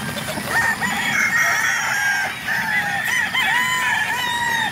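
Several young roosters (stags) crow in overlapping calls with clucking among them, loud and continuous throughout, a dense farmyard chorus of poultry with no talking.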